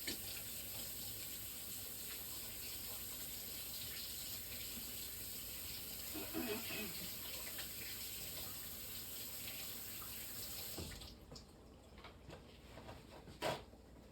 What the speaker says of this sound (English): I'm going to wash my hands over here.